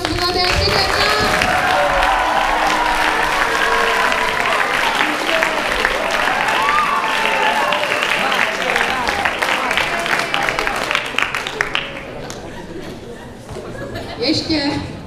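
Loud, sustained applause from an audience at a final project presentation, dense clapping with crowd chatter mixed in, thinning slightly toward the end.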